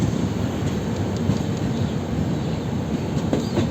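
The Kaziranga Express, train 13181 from Kolkata to Silghat Town, pulls out of a station with a loud, steady rolling rumble that continues unbroken throughout.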